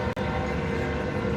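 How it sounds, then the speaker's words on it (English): A passing train gives a loud, steady, even rumble that holds for the whole moment, with no voices. "Craig Rosen, he comes to my streams just to hear the fucking trains"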